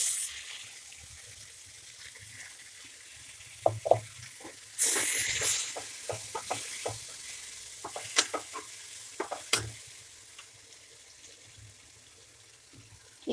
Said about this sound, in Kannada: ಇವಾಗ ಈ ಮಸಾಲೆ ಹಾಕ್ಕೊತಿದ್ದೀನಿ ನೋಡ್ರಿ.